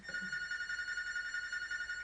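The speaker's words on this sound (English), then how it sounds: "Phone's ringing!" A house telephone rings with a steady electronic bell tone, heard faintly and continuously for a couple of seconds on its own.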